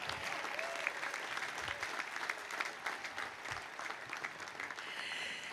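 A large crowd at a university commencement claps steadily outdoors, a dense, even wash of applause from start to finish, heard at a distance and fairly faint.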